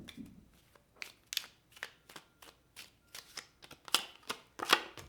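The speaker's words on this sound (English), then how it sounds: "let's go ahead and throw down some more cards" Tarot cards are shuffled and dealt in a quiet room, a string of about a dozen crisp, papery riffles and slaps in an uneven rhythm, close and fairly soft, with no talking.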